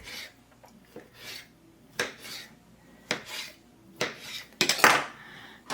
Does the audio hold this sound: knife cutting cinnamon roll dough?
yes